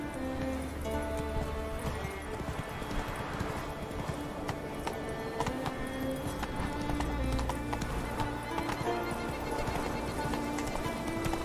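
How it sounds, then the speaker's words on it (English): Rapid rhythmic hoofbeats clatter steadily alongside horse whinnies and snorts in The Witcher 3: Wild Hunt, with synthetic game-like sounds layered throughout. "What the fuck is wrong with this horse?"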